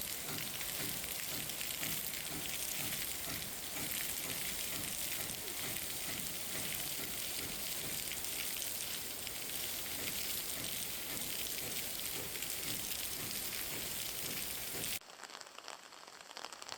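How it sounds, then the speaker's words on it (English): Steady rain patters densely on surfaces along Japan's Shikoku pilgrimage trail for a long stretch, then drops away abruptly near the end, leaving a quieter hiss. "I could think of no better place for sitting back and watching the rain"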